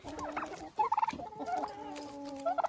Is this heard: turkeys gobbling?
yes